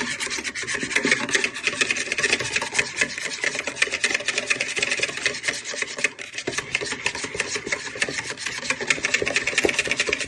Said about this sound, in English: you just want to whisk your eggs for a few minutes